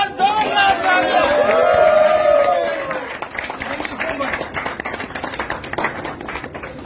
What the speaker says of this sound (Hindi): सुभाष ढाणा जी के लिए एक बार जोरदार तालियां।